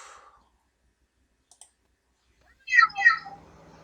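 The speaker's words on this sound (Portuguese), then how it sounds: "e o gato." A single cat meows briefly near the end after near silence, close and fairly clear, preceded by a couple of faint clicks.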